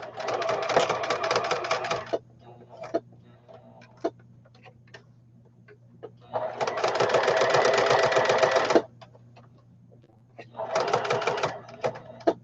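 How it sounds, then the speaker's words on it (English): A sewing machine runs a straight stitch around a small label, in three bursts of steady rapid whirring with quiet pauses and light clicks between them, close and fairly loud. "I'm going to go back to a straight stitch on my machine. And I'm going to stitch all the way around the little label."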